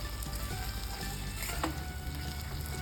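Raw turmeric curry with ghee, chili and garam masala sizzles in a pan while being stirred, a close, steady crackling fry over a few seconds.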